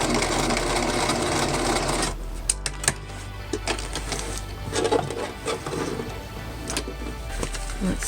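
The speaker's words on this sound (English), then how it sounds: "Still using just a basting stitch." A sewing machine runs a basting stitch across patchwork in a steady, close, loud mechanical whir for about two seconds, then stops, leaving quieter clicks and fabric handling.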